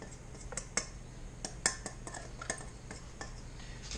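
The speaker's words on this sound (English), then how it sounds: "I'm just going to whisk that in real good until it becomes real creamy consistency" A whisk stirs Ultrabee pollen substitute into a bee candy board mixture, making a string of quick, light scraping clinks against a bowl at an uneven rhythm, close and fairly quiet.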